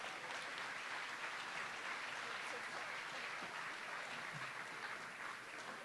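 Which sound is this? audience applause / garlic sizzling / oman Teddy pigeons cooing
audience applause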